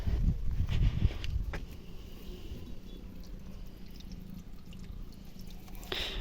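Water poured over plants in a vegetable garden during hot weather, a close splashing and trickling stream with a brief stronger burst near the start and end.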